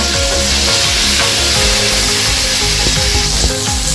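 Green chillies frying in a masala base for vegetable kurma give off a loud, dense, continuous sizzle and crackle, close up, with no speech over it.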